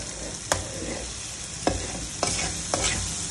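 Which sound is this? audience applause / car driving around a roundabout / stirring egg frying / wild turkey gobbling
stirring egg frying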